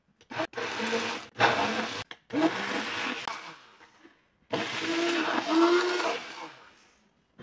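A blender purees boiled potatoes for potato soup, whirring loudly in three long bursts separated by short pauses, the motor pitch dipping and rising as the thick mash churns.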